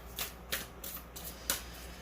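An oracle card deck is shuffled by hand, giving quiet, brief riffling bursts in a few separate strokes, close and soft.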